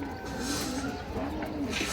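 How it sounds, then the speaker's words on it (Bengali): A male Giribaz pigeon coos in low, rolling repeated calls, close and moderately loud, with a voice talking over it. "খুবই সুন্দর একটা নর কবুতর দর্শক"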